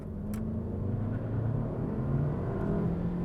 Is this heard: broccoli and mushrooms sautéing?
no